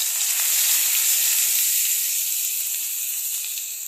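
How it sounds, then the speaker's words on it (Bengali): Nigella seeds and ginger paste sizzle loudly in hot oil, the first step of a Bengali rohu fish curry, a continuous bright hiss that fades slightly toward the end. "একটু তেল দিয়ে প্রথমে দিয়ে দেব কালো জিরা, এরপরে দিয়ে দেব অল্প আদা বাটা"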